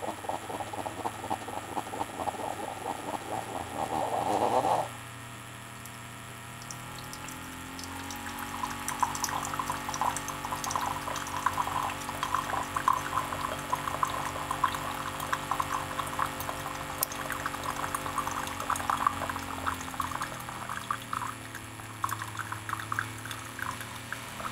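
A Keurig coffee maker's pump runs with a steady, even hum and a trickle of moving water, close and alone, after a brief louder burst at the start.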